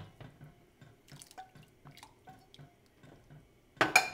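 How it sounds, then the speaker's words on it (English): A thick flour, water and tomato paste mixture is poured into harira soup, giving soft, close drips and small wet plops, followed by a louder splashing pour at the end. "take that paste mixture, which is flour, water, and tomato paste, and add that to the soup"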